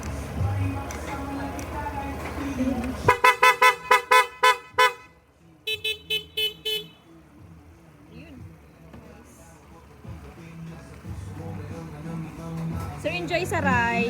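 A newly installed horn on a motorcycle is tested in a burst of about seven short, loud, evenly spaced honks, then a second run of five or six more, with talking before and after.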